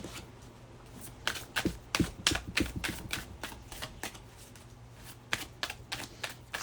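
Tarot cards are shuffled by hand in a series of quick, crisp riffling bursts, some clustered and some spaced out, close and moderately loud with no talk.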